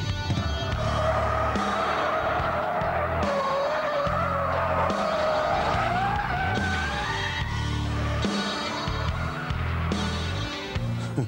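A 370-horsepower supercharged Jaguar spinning its wheels with traction control switched off: a long, continuous tyre squeal over a loud, straining engine roar that climbs in pitch, heard close up throughout.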